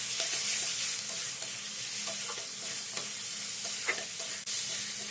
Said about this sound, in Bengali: টমেটো পিউরি বা টমেটো বাটাটাকে খুব ভালো করে নেড়েচেড়ে ভেজে নিচ্ছি।